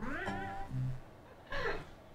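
A cat meows in a short clip played back during a reaction session, with two drawn-out calls and a faint third cry between them, standing clear with no talk over them.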